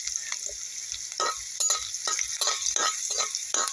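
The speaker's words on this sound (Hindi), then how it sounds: "लहसुन डाल देंगे और 1 मिनट तक इस तेल में इस लहसुन को हम फ्राई होने देंगे" Crushed garlic frying in hot oil for an achari baingan dish: a steady bright sizzle close by, broken by repeated stirring scrapes in the pan, with no talk.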